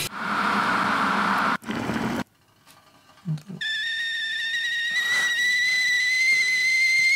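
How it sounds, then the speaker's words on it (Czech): A kettle whistles steadily with a high, bright tone that rises into a sustained shrill note and keeps going, following a brief burst of noisy clatter and a few soft knocks at the start. "tam dám to pískání té konvice"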